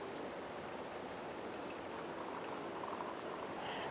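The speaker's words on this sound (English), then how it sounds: "Now since I've poured this out, I'm immediately going to pour the coffee in my thermos" Coffee pours from an Ozark Trail percolator coffee pot in a steady, faint liquid stream running continuously throughout, with no talking.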